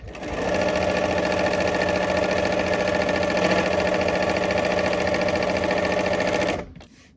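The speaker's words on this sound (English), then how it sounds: "So I'm just taking 2 or 3 stitches and back stitching." Sewing machine running steadily for about six seconds, a few stitches then back stitching to lock the seam, a dense even mechanical whir that stops abruptly near the end.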